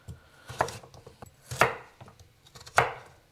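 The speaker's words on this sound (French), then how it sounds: "Pour les carottes, je vais les couper simplement en bâtonnets." A knife cutting carrots into sticks on a board, with three firm, well-spaced chops and lighter taps and scrapes between them, close and clear with no talking.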